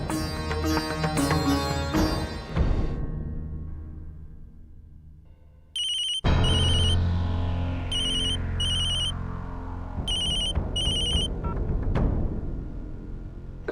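A telephone ringtone plays in a television drama scene, repeated electronic ringing bursts sounding over a background music track that swells and fades.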